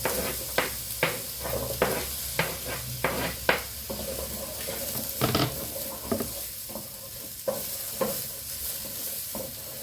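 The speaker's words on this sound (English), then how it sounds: "Okay, peppers going in." Peppers tipped into a large frying pan on a home hob, giving a soft ongoing sizzle broken by a string of sharp stirring scrapes and clacks of a utensil against the pan, moderately close and without talk.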